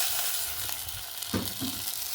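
Hot water is poured into masala frying in an iron wok over a wood fire, giving a steady sizzle with a short burst of splashing bubbling near the end, close and moderately loud.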